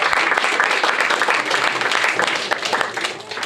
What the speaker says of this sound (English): Big round of applause for coming up